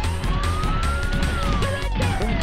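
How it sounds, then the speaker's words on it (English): Police siren in The Misadventures of Tron Bonne video game, a loud wailing tone rising and falling over layered game effects and rumbling engine noise. "Shoot that stupid siren"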